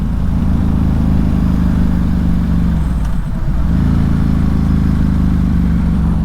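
A 2010 Ducati Hypermotard 1100 Evo riding through town, its engine a loud, steady low-rev thrum with a brief dip and recovery midway, harsh and lumpy at low speed.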